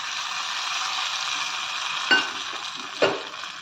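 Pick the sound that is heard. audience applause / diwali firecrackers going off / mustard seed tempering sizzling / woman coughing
mustard seed tempering sizzling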